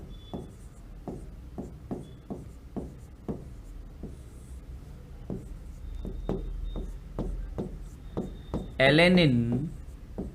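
Amino acid names are written on a board in a steady run of sharp strokes and taps beneath a voice speaking Hindi.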